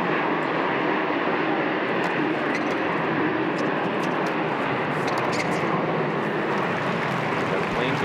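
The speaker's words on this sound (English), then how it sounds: "That plane goes overhead, you can't hear a thing." Airplane passing overhead during a US Open 2004 quarterfinal tennis match, a steady broadband engine roar filling the whole stretch at a constant loud level, with commentators talking over it.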